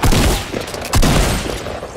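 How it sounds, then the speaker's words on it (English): Two loud, close tactical shotgun blasts in the Fortnite video game, each a sharp boom with a lingering tail, the second following about a second after the first. "One of my tactical shotgun shots didn't register at all."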